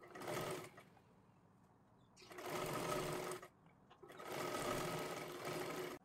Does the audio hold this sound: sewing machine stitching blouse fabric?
yes